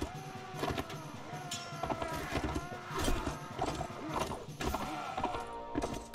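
Horse hoofbeats in Mount & Blade: Warband, clip-clopping steadily through a dense battle mix with clashing and shouting, a whinny rising briefly from the din.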